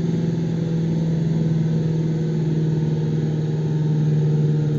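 A Renault Talisman 1.6 TCE petrol engine rated at 150 hp holds a steady, loud hum at elevated revs during stage 1 tuning, droning continuously without pauses or speech.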